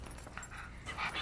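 A dog whimpers in a scene from the film The Clique, giving faint, brief yips and whines over a muffled soundtrack background.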